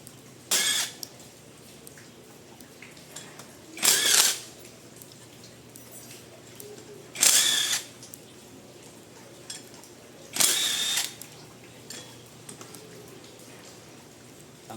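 A power tool with a 14mm socket spins off four bolts from a Sniper 155 motorcycle sprocket, heard as four short, evenly spaced buzzing bursts, close, over a quiet background.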